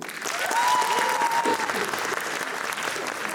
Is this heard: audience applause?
yes